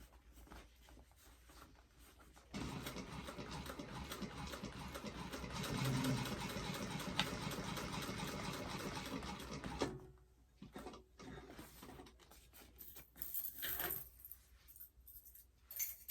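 A sewing machine stitches a seam on a fabric bag, running in a steady, even whir for about seven seconds before stopping, then a few short clicks and handling noises.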